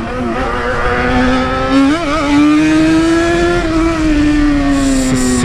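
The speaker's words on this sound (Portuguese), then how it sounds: "o XJ berra demais" A Yamaha XJ motorcycle engine revs loud and close, a steady strained drone rising and falling in pitch with a brief dip near the middle, running continuously with no talk over it.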